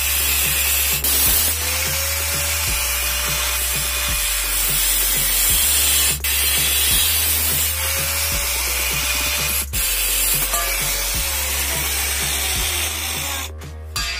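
A power tool cutting a metal chain down to a 1.5-foot length for a homemade chain wrench, its loud, steady whine running close and continuous, with a slight pitch sag as the cut bites.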